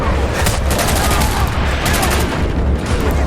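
Loud, rapid gunfire from a powerful gun in a video game hammers out in dense bursts of sharp repeated shots, nearly continuous across the stretch with brief gaps, a voice talking faintly beneath.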